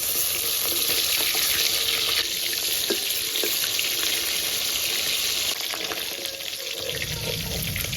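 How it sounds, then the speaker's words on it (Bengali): Rohu fish frying in hot oil in a pan gives a loud, dense, continuous crackling sizzle that fills the whole stretch, with a few faint clicks beneath and no talking. "মাছের এক সাইড ভাজা হয়ে গেছে, উল্টে দেব।"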